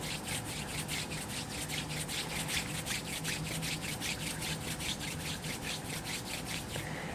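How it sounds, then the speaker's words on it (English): Palms rub together briskly during a Kundalini yoga practice, giving a steady run of rhythmic, dry swishing strokes at close range, with no talking. "bring the palms together and rub them as you arrive"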